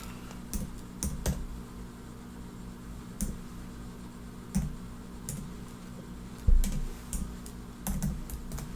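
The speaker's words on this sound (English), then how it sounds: "I need to type in the code here" Close, quiet keystrokes on a computer keyboard as a code is typed in, sharp separate taps arriving irregularly in small clusters over a faint background hum.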